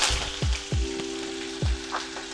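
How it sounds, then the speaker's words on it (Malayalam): Curry leaves and green chillies hit hot oil just after mustard seeds have popped, for aval upma. A loud, close crackling sizzle comes with several sharp spitting pops in quick succession over a continuous frying hiss. "കടുക് പൊട്ടിയതിന് ശേഷം കറിവേപ്പിലയും പച്ചമുളകും"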